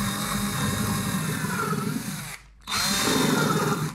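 A power drill whines steadily as it bores a countersunk hole into wood, briefly stopping for a moment before biting in again, loud and close.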